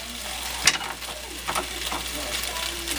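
Beef frying in a cast iron pan sizzles steadily while it is stirred, with a sharp scrape near the start and a few softer scrapes and clinks afterward. No one speaks.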